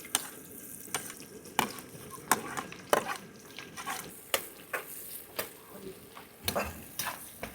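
Small shallots sizzling and being stirred in sesame oil in a pan, a steady fry broken by regular scraping strokes of the spoon, close and moderately quiet with no talk.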